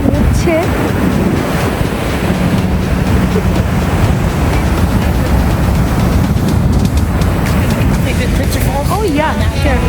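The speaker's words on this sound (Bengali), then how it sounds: "জাস্ট দেখুন কীভাবে এখানে জলটা পড়ছে।" Water plunging at a partly frozen Niagara Falls in winter, a loud, continuous roar with heavy wind buffeting the microphone and voices speaking over it.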